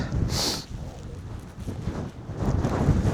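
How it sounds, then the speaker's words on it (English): Strong wind gusting up to 25 mph on the Malvern Hills buffets the microphone beside a tent in rough, low rumbling gusts that rise and fall, with a brief hissy flutter near the start. "As you can probably hear, the wind is picked up."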